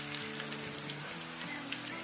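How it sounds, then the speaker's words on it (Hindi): Steady, dense hiss of heavy rain pouring down in a village, broadband and continuous, with a low tonal hum running underneath. "बारिश तो काफी तेज आ गई।"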